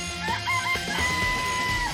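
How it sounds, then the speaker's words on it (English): Chickens cluck in a coop in Danganronpa, a quick series of sharp clucks followed by a drawn-out crowing note, loud and close with no talking. "I remember there were some chickens in the coop earlier."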